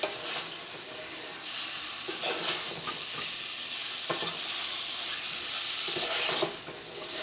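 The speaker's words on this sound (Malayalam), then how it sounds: "ഉപ്പ് ചേർക്കാം, ഇതെല്ലാം കൂടിയിട്ട് നന്നായിട്ട് മിക്സ് ചെയ്യാം" Beef coated with masala, vinegar and salt is stirred in a pan for a Kerala beef roast, giving a steady close sizzle with repeated scraping and stirring strokes throughout.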